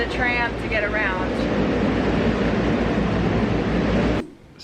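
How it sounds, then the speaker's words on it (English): Resort tram carrying riders around a large Hilton resort in Hawaii, a steady loud low rumble and rolling drone that runs without a break, with brief voices near the start, then cuts off abruptly near the end. "The Hilton Resort is so big it needs a tram to get around."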